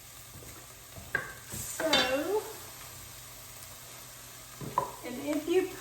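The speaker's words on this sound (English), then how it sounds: "Okay, so let's saute these." Onions saute in butter and olive oil in a pan, giving a low steady sizzle while a spoon stirs and scrapes, and someone speaks briefly over the cooking.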